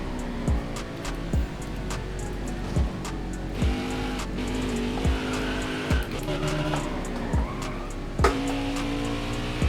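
A race car at Watkins Glen takes the high-speed bus stop chicane, its engine roaring steadily with repeated gear shifts and tire squeal as it carries speed through the corner, loud and close.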